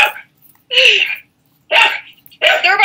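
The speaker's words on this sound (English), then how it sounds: "Look, they're barking at you." Three loud barks from a nearby dog, spaced about a second apart, with quiet gaps between them.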